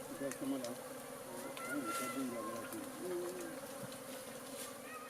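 Bees drone and buzz around beehives in rural Ghana, a continuous close hum with birds cooing and voices faintly underneath.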